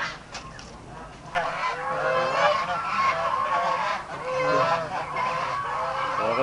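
Ducks and turkeys honk and quack in a noisy flock nearby, overlapping calls rising and falling continuously with a few sharp bursts.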